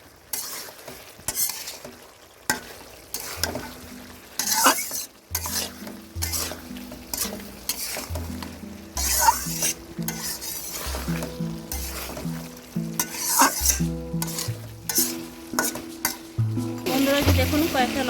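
Chicken pieces sautéed with potatoes in a pan for a Bengali chicken curry, a utensil stirring and scraping in steady repeated strokes over a continuous close sizzle, with occasional clinks against the pan.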